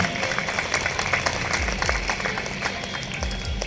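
An audience at a centenary celebration in Jabalpur applauds a guest, a steady wash of many hands clapping that stays fairly loud and even throughout.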